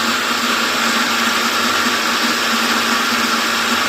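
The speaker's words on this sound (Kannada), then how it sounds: "ಇವಾಗ ಮತ್ತೆ ಮಿಕ್ಸಿ ಹಾಕ್ಕೊಳ್ಳಿ" Loud, unbroken whirring drone of a kitchen mixie grinding henna leaves with water, close by and steady throughout with no pauses or voices.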